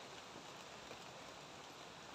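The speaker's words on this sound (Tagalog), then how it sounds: "Medyo umaambon, no?" Light drizzle falling outdoors on a mountain trail, a steady soft hiss of fine rain with no distinct drops standing out and no voices.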